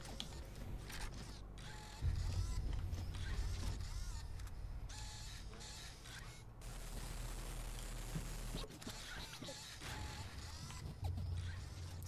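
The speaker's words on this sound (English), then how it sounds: "Open this door." A door-opening mechanism in the Gears of War 2 video game grinds and creaks with ratcheting metallic clanks and gear noise, rising in intensity partway through, with no talk over it.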